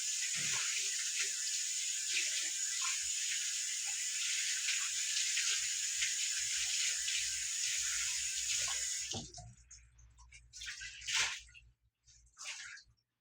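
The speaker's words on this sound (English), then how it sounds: "So I'm gonna go and wash my hands yet again." Hands being washed under a running kitchen tap at a sink, steady hiss of flowing water for several seconds, then the stream stops, leaving a few splashes and drips, close and without talk.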